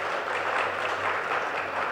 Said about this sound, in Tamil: கைத்தட்டணும் அவங்களுக்கும்